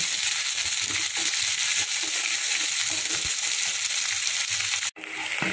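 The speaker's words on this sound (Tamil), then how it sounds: "பச்சை போட்டுடலாம் நல்லா ஹையில் வச்சு வதக்கலாம்" Onions and green chillies sautéed over high heat, giving a loud, dense, steady sizzle with occasional stirring scrapes, close and without voices, briefly cutting out near the end.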